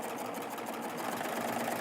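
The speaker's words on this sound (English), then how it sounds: "and then I'm just going to continue to stitch" Baby Lock Triumph overlock sewing machine stitching along fabric, a fast, steady mechanical whirr running close and continuous without any talk.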